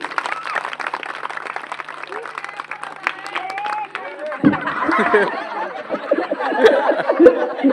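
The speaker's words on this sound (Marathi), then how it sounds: "समोरच्या सगळ्यांनी जर जोरात टाळ्या वाजवल्या तर जागा होणार आहे" Loud, rapid clapping comes from a crowd at a comedy hypnotism stage show, with laughter and chatter rising over it as a voice talks throughout.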